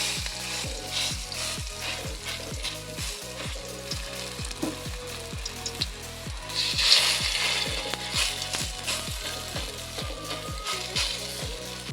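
Steady, close sizzling and crackling of food frying in hot oil in a wok, continuous throughout with no voices.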